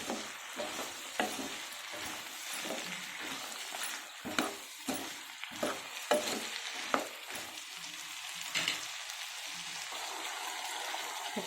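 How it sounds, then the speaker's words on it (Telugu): Vegetables frying in oil in a pan for vegetable pulao, salted with rock salt, with a steady sizzle and repeated scraping stirs of a spoon against the pan, close and clear, no talking. "బాగా ఫ్రై అవ్వాలి"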